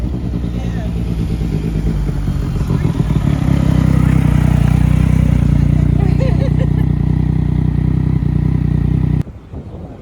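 A motorcycle with its factory exhaust rumbles loudly and steadily up close, rising slightly in intensity midway, before cutting off abruptly near the end.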